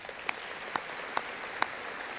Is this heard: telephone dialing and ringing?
no